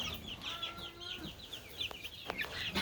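Chickens cluck in a barn on a windy day, several birds calling in short overlapping bursts with a steady rush of wind and rustling beneath.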